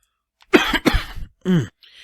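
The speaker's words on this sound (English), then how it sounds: "I always get coughing fits as soon as that little light goes on." A short burst of harsh coughs, three or four in quick succession, close and fairly loud, followed by a faint rustle.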